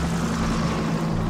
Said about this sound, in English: Now there's the helicopter again.